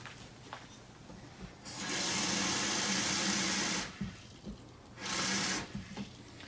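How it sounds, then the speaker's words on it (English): Water rushes from a tap in two loud, steady bursts, one long and one short, to submerge a Keurig charcoal water filter pod for soaking, with quieter room sound between them. "you need to soak the pod in some water"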